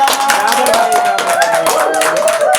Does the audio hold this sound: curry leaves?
no